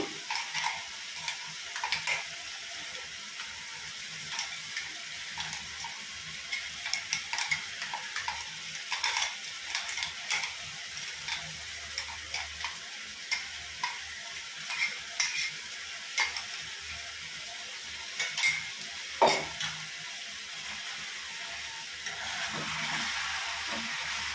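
Chicken sukka sizzles and fries in a pan as ginger garlic paste goes in, with a steady hiss and frequent scraping stirs and utensil clicks against the pan, close and continuous.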